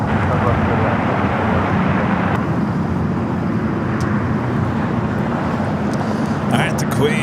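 Lufthansa Boeing 747 taxiing at LAX, turning onto a taxiway toward the gates: a loud, steady broadband jet engine roar and rumble running throughout, with a voice talking over it.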